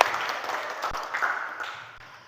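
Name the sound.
classroom applause for a student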